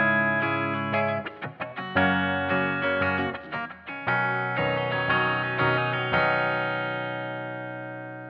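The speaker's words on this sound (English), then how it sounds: "Now, let's listen to a brush for shaving." A shaving brush swept across electric guitar strings, heard through effects: a run of bright, sustained, ringing chords and scrapes, with a few choppy stutters, then a long, slowly fading ringing chord, close and fairly loud.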